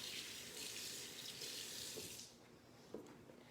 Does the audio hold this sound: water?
yes